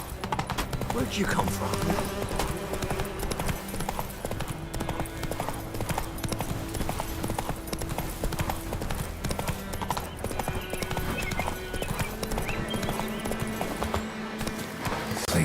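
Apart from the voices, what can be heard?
Geralt's horse Roach galloping, from the video game Witcher 3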